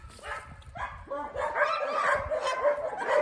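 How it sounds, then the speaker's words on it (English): Several pet dogs bark and yip excitedly at close range in repeated bursts, with occasional whimpers mixed in, while muffled human voices sound faintly underneath. "my dogs keep barking"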